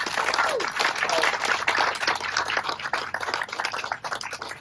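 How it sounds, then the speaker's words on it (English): Audience applause at a ceremony for The Wall That Heals memorial exhibit at the Toyota plant in San Antonio, Texas; steady, dense clapping from a sizeable crowd filling the whole stretch at even loudness. "let's give them a round of applause"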